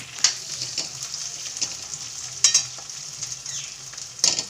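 Green chillies sizzle in a pan with fried onions for a Khandeshi pithla, a steady close hiss broken by sharp spatters and pops and occasional stirring scrapes.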